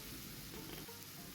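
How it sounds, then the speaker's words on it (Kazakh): Onions frying in a pan for a potato pirozhki filling, a faint, even sizzle that runs steadily without a break. "Енді оның үстіне жақсылап қызартып тұрып, пиязымызды қуырып салып аламыз."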